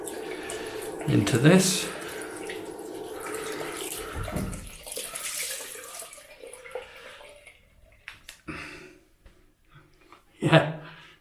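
Cold tap water runs steadily for rinsing off after a shave, a broad rush that fades out midway, with a person talking over it and a few short splashes afterwards.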